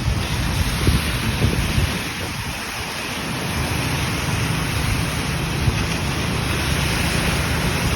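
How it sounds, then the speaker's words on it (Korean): Steady rain pours down on a street in Thailand, a dense unbroken hiss that continues through the whole stretch, with low traffic rumble beneath it and a brief lull near the middle. "지금 비가 오고 있네."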